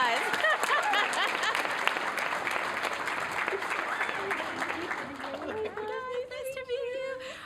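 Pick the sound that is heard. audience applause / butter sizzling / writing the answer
audience applause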